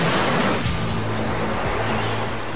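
A tidal bore surge of river water rushes past in a loud, continuous roar of churning, turbulent water heard up close throughout, with no voices.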